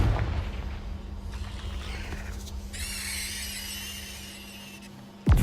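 A Confringo spell explosion in a magic video game sounds as a series of loud booming blasts with rumbling decay, followed by a bright crackling burst and a sharp final hit.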